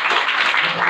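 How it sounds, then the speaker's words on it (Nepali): Audience applause from a crowd at a live talk or show, a brief dense burst of many hands clapping together, loud and close throughout the short moment. "एकपल्ट जोरदार ताली बजाउनु"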